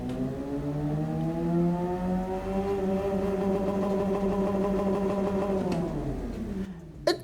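Nissan GT-R engine in Gran Turismo 7, revving quickly and holding a steady buzzing tone with strong harmonics, then dropping off near the end. The sound is loud, up close and alone.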